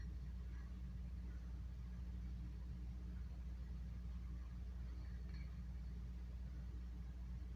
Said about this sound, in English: here is the president's motorcade leaving the ellipse after his speech on January 6th